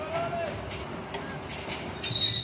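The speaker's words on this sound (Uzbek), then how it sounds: "poyezd o'tib qoldimi" A train rolls past at close range, a steady rumbling clatter with high metallic wheel squeal that swells near the end, and faint voices underneath.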